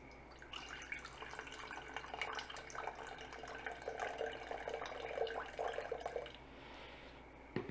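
Water trickles into a sourdough starter jar sitting on a kitchen scale, a soft, faint, steady pour lasting several seconds, heard alone without talking.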